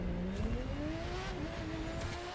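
A drifting car's engine revs steadily in The Crew 2, a loud, continuous droning whine that climbs in pitch, heard up close with no talking.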